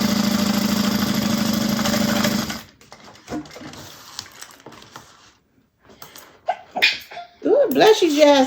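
A steady mechanical whirring cuts off, a quiet pause follows, then a single sharp sneeze, with a voice speaking briefly at the end.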